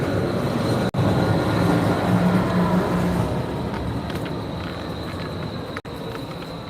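A Portland streetcar rolls along with a steady, loud mechanical rumble and hiss that continues without pause, with a high whine riding over the noise and no voices.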